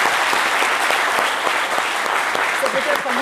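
A television studio audience breaks into brief, close applause for a guest, a thick burst of clapping with a voice rising over it near the end.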